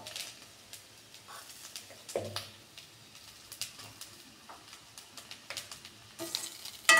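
Rice and grated coconut are stirred in a frying pan with spices, giving soft scraping and faint sizzling with small clinks and taps throughout, quiet and close, with no one talking.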